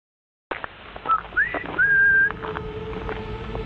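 A person whistles outdoors in the cold, a few short rising notes and then one long steady tone, close and fairly loud over a light wind-blown background.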